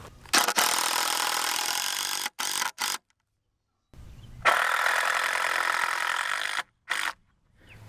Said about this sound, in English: I'm using some shorter little screws just to line things up and help hold it in place until we get everything locked together